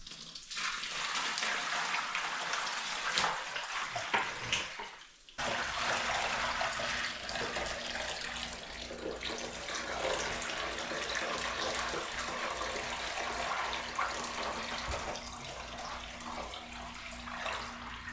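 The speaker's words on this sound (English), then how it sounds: "I'm gonna plug the drain, pour in about 20-ish gallons of water" Water gushes loudly and continuously as it is poured into a plugged shower pan for a leak test, a brief break after about five seconds before the strong rushing flow resumes.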